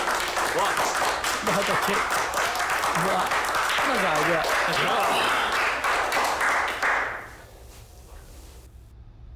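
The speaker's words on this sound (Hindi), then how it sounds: "मैं यहाँ तुम लोगों की तालियां सुनने नहीं खड़ा हूँ।" A group of people clapping in a crowd, dense applause lasting several seconds under a voice, then fading away.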